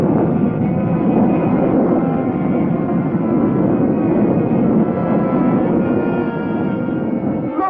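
Spaceship engine launching as a sound effect, a steady loud roar with a broad rumbling body held at constant strength throughout, like a rocket at half throttle, with no voices.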